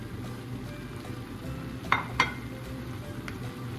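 Bean sprouts and tofu stir-fry in a pan with a steady low sizzle, a pair of sharp utensil clinks near the middle and a fainter one later.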